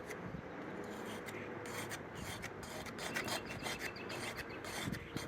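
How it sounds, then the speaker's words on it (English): A small plastic scraper strips loosened coating off a vintage Australian drive-in speaker, producing repeated close, raspy scraping strokes in an uneven rhythm, with no talking. "Let's use this little plastic scraper."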